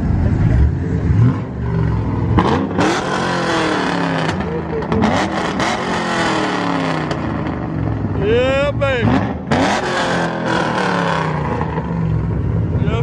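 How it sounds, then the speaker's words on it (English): A Dodge Charger Scat Pack revs loudly at a Dallas car meet, the engine roaring and dropping back several times with a sharp surge near the end, while people talk and cheer nearby. "Rev it one more time."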